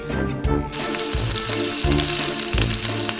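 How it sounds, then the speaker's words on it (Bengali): Boiled noodles frying in a pan give a dense, steady sizzle over a rhythmic low machine-like hum, loud and close throughout, with no voices. "এখন আমি এটাকে ভেজে নিব"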